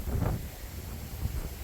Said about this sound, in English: Sure is windy today